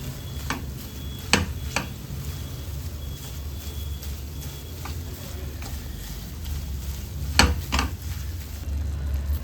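Besan (gram flour) being fried and stirred continuously in a pan for laddoos, giving a soft steady sizzle with a few sharp scrapes and clinks of the spoon against the pan.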